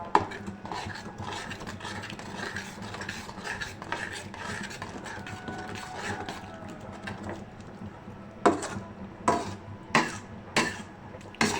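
A spoon stirs and scrapes yogurt into spiced masala in a metal pot over a high flame while beef paye is cooked. A steady wet scraping runs throughout, then several sharp, close clinks against the pot near the end.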